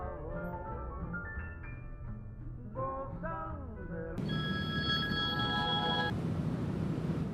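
A phone ring tone sounds clearly for about two seconds after a stretch of music and background noise, repeating tonal beeps close by.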